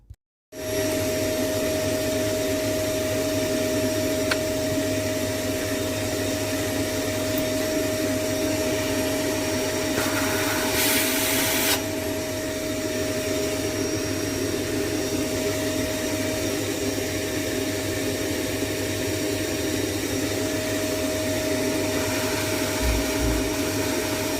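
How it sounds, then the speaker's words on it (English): A Hoover vacuum cleaner runs continuously while cleaning dust and metal filings from a Fender Vibro Champ XD guitar amplifier chassis, a loud, steady whine and roar held throughout, with a brief change in pitch midway. "we'll hastily get rid of that with the Hoover."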